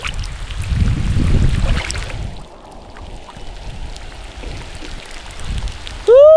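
Steady broadband hiss of rain falling, heavier at first then softer, with a brief bright tone at the very end.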